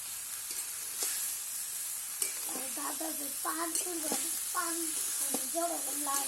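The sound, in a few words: vegetable curry put into hot oil, sizzling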